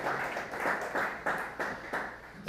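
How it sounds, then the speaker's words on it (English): Conference audience at a Bitcoin business summit in Montreal clapping in a modest, uneven round, with individual hand claps standing out as the applause thins. "we can give them a round of applause"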